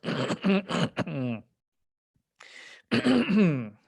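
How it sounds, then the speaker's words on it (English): A person clears their throat with several short, harsh rasps, then a pause, a faint breath, and another longer throat-clearing burst, close and loud. "I gotta clear my throat."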